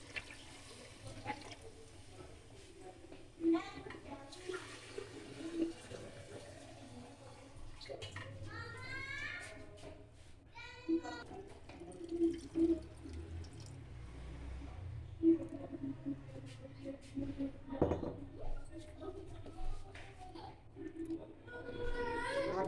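Water is poured into a pressure cooker over fried beef trotters, with soft splashing and sloshing bursts at close range while a person talks throughout.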